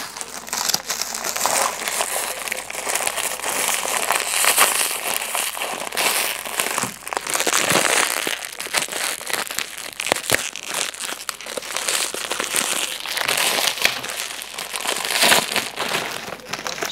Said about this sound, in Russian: сейчас будем подарок открывать